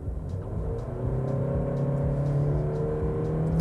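A 2021 Honda CR-V Touring with a CVT under full-throttle kickdown uphill from about 40 km/h, its engine droning loud and steady with rising whine tones sustained throughout, no talking.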